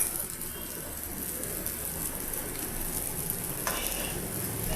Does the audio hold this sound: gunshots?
no